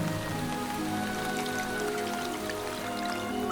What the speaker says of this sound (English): The rain is becoming heavier.